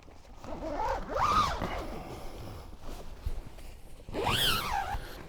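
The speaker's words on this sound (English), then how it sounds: "So I can reach no problem and zip it up or open it." A tent vestibule door zipper is pulled open or closed from inside a backpacking tent, giving two distinct rasping zip strokes near the start and end with fabric rustle between, close and fairly loud.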